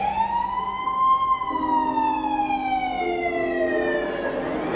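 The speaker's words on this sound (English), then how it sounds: "Then a police siren was heard." A police siren wails loud and close, its tone sweeping up and then slowly gliding down as it holds, with a low road rumble beneath and no talking.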